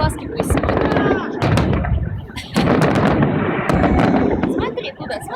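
Celebratory fireworks from a May 9 Victory Day salute in Voronezh burst repeatedly, loud booms and crackling pops in quick irregular succession, with people talking nearby amid the explosions.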